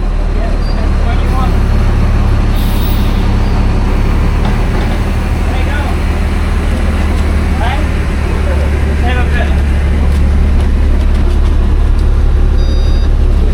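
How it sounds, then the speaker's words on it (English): City bus number 612 bound for Maroochydore pulls in at a busy stop, its engine a loud, steady drone amid surrounding traffic noise and faint background chatter. "here's our bus now to Maroochydore, 612"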